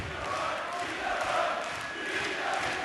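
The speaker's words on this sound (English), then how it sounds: "To have the crowd singing his name" At the 2016 European Darts Matchplay semi-final, a large arena crowd sings Peter Wright's name in a steady, distant, massed chant that fills the hall without a break.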